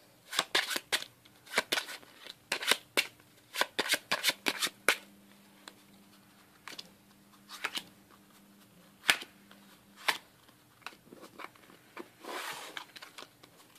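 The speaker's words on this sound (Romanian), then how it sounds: "Să le amestec cât de bine pot" Playing cards being shuffled by hand, close and crisp, in bursts of rapid riffling flutters with short pauses between them.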